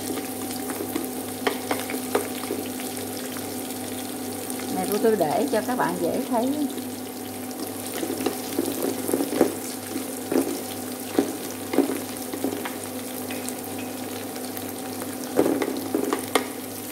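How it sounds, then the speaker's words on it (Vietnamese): Onion, garlic and lemongrass stir-fry in a hot pan as the base for a duck curry, giving a steady sizzle and crackle with occasional stirring scrapes, heard under someone talking. "bỏ hành, bỏ tỏi, bỏ sả vào xào nha các bạn"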